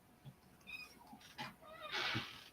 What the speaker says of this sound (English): this is the kitten that was found in a car engine.